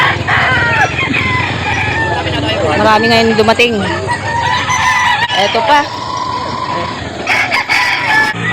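Chickens and roosters at a crowded poultry market in Calauan, Laguna crow and cluck over steady background chatter, several loud crows rising in turn while someone talks nearby.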